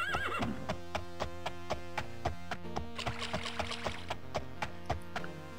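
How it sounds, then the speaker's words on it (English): Horse whinnying and hoof clip-clops from the game Daggerfall Unity, a steady run of sharp, evenly spaced hoofbeats under a high neigh, with layered game sounds and music throughout. "And the horse jumps over the fence."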